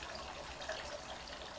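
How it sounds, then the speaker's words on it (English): Water runs steadily in a home parlor, a faint continuous trickling wash with no voices. "what the source of the water running is that you hear sometimes when I'm sitting in my parlor"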